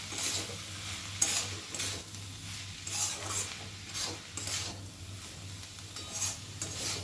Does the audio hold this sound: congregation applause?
no